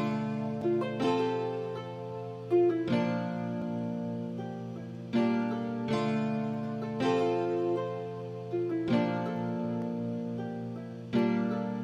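A nylon-string guitar sound from the Ace Nylon Light software preset in FL Studio, playing a clean plucked melody with rhythmic chord strikes roughly every two seconds, heard alone and clearly.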